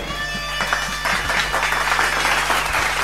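A church congregation claps in praise, a brief dense burst of applause rising over a steady low hum.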